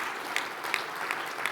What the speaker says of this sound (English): I think everybody should give a big round of applause to Nectaria and her brilliant team